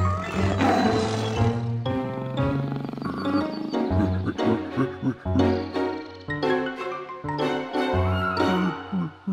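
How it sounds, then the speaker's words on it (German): A cartoon tiger in a Morphle children's animated show gives loud, repeated roars and growls in uneven bursts, close and dominant, with pauses between outbursts. "Ein Tiger?"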